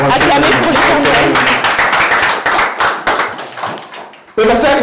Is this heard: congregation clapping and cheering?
yes